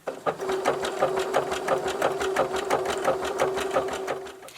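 A sewing machine stitches along the top edge of a one-piece fabric tote bag, producing a rapid, even mechanical chatter over a steady motor hum for several seconds, near and clear.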